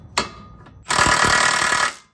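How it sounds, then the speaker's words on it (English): A pneumatic impact wrench runs on a suspension nut of a Saab 900 during a suspension overhaul, one loud sustained rattling burst of about a second after a brief knock, near and without talk. "we're gonna stick the impact on here and at the same time kind of push down and lightly hammer"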